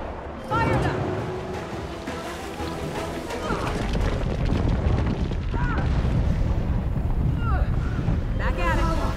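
Cannons fire in the Guild Wars 2 video game, a dense, loud barrage of booms and rumbling blasts running nearly the whole stretch, mixed with game effects and character voices talking over the din.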